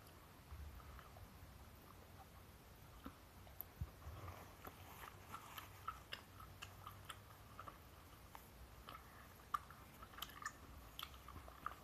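Decade-old chewing gum being chewed close to the mouth, with soft, irregular wet clicks and smacks over a quiet background.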